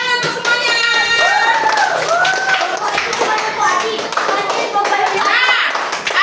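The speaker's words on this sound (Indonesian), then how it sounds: "Tepuk tangan untuk semuanya." Steady applause from a grade 4 class, with children's voices chattering and calling out over the clapping throughout.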